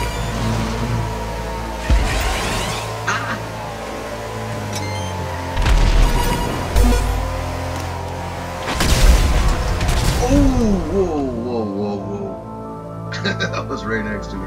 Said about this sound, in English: Unexpected explosions everywhere.